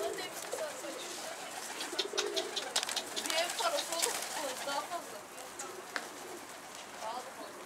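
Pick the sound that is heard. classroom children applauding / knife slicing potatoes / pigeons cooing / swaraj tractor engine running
pigeons cooing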